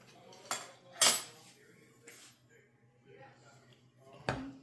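A utensil cuts a cheesecake slice on a plate, a few sharp clinks and scrapes of metal on ceramic spaced out over a quiet background, with faint talking.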